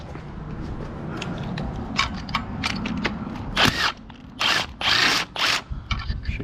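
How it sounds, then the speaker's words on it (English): A power tool backs bolts out of a Honda engine being separated from its transmission, with short bursts of whirring and louder buzzing runs later, mixed with clinks and handling noise close by. "I'm gonna start taking the bolts out of here"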